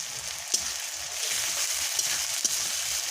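Chili paste hisses gently in oil alongside cumin paste, a low continuous sizzle with a few light pops or taps at intervals, no talk.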